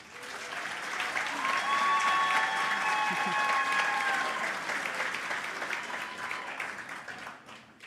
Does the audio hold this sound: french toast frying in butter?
no